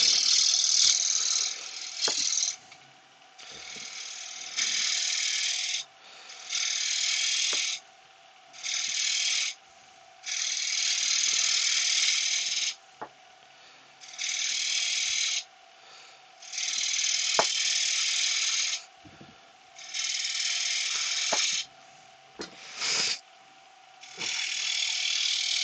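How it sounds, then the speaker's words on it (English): A 3/8 bowl gouge cutting wood on a lathe: repeated bursts of bright, hissing cutting noise, each a second or two long, broken by short pauses, over a steady low motor hum, close and fairly loud with no talk. "I'm just going to do a pass with the 3/8 bowl gouge and see"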